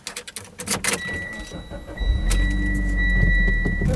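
A Mitsubishi Lancer Evolution X GSR starts out with clicks and door or key rattles, then a steady engine rumble builds as the car pulls away, with a faint electronic chime tone running alongside.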